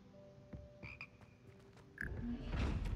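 Hogwarts Legacy's singing choir frogs give off a string of low croaks and short chirping notes, quiet at first and then swelling into a louder, noisier burst at the end, with no one talking.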